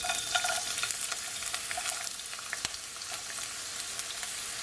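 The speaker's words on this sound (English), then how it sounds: "I'm gonna add my remaining onion and some of my remaining garlic" Onion and garlic are dropped into a hot pot of oil for Jamaican pepper shrimp and sauté with a steady crackling sizzle. It carries sharp pops and stirring scrapes throughout, close and alone without talk.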